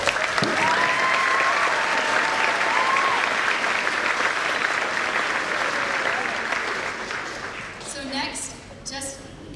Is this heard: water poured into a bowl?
no